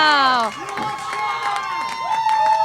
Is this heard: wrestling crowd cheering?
yes